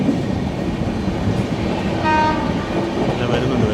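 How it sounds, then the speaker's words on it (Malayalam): A Bilaspur Express train passes on the opposite line, heard from inside an AC chair car of the Kovai Express: a steady loud rumble with a brief horn-like tone midway. "ഓപ്പോസിറ്റ് ലൈനിൽ ബിലാസ്പൂർ എക്സ്പ്രസ് വരുന്നുണ്ട്."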